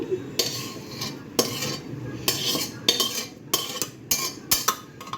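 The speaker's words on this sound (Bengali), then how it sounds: "এই দেখো সব প্রেশার কুকারের মধ্যে ঢেলে দিচ্ছি।" Ingredients tipped into a pressure cooker and stirred with a metal utensil, giving close, repeated scraping and clinking strokes against the pot in short bursts.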